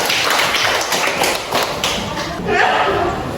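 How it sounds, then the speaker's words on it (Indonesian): A school class applauds together, a loud, dense wash of hand claps with a few louder slaps, mixed with children's voices. "Tepuk tangan semua."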